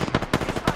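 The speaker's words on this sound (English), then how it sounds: "I'm getting shot." Rapid automatic gunfire in a squad-based shooter video game, a quick burst of loud, sharp shots in close succession, heard alone without talk.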